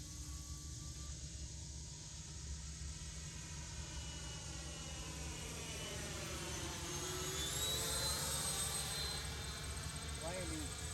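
Freewing T-33 Shooting Star RC jet flying with a steady, loud turbine-like whine and broad rushing roar, swelling slightly as it passes closer, with faint voices underneath.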